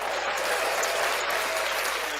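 Hands clap at a poker table, a steady close run of applause lasting a couple of seconds with no speech over it.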